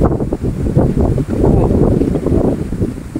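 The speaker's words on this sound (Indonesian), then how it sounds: "Angin." Strong gusty wind buffets the microphone near a mountain summit, a loud rumbling roar that swells and dips continuously with no talking.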